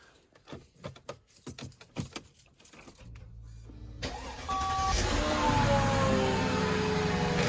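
A Mercedes W220 with rear Airmatic suspension: keys jangle and rattle in the ignition, then the engine cranks and catches, settling into a steady loud idle with a faint whine, close by and with no talking.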